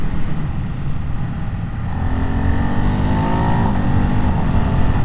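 A 2025 Ducati Hypermotard 698 Mono RVE single-cylinder motorcycle downshifts through its gearbox using the quick shifter, engine note stepping through rising blips and falling revs under steady loud wind rush while riding.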